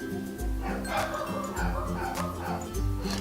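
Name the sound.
dogs barking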